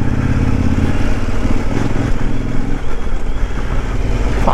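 A 2024 Kove 800X adventure motorcycle rides off-road over rocky ground, its engine note rumbling steadily close by, with suspension clatter and stones knocking throughout.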